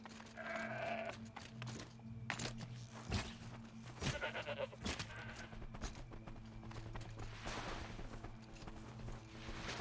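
Robotic goat-like machine creatures in the video game Horizon Zero Dawn bleat and whir amid a busy game soundscape, with sharp thumps and clanks scattered throughout.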